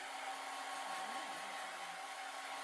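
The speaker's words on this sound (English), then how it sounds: "the safest terahertz hairdryer in the world" An iTeraCare terahertz hairdryer blows a steady, loud broadband whoosh with a faint motor whine, running continuously and unchanging from start to finish with no voices.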